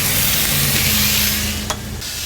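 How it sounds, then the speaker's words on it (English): Pork tenderloin sears on a Kamado Joe grill, giving a steady loud hiss and sizzle with a faint hum underneath and a brief sharp tick near the end. "I want to get a really nice sear on the outsides of these."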